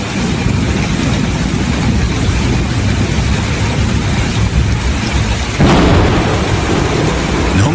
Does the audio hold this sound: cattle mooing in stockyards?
no